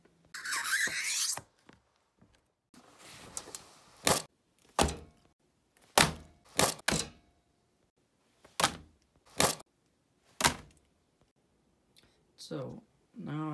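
Scored acrylic sheet for a DIY terrarium or aquarium being snapped apart under firm pressure, giving several sharp, loud cracks spaced a second or two apart, close up, with scraping and rubbing before them and brief talk around them.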